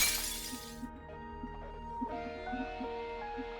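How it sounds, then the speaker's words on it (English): Glass shatters in the video game Goddess of Victory: NIKKE, a sharp, bright crash that ends abruptly, followed by a low humming musical tone with soft plucked notes underneath. "The sound of glass shattering rings through the air"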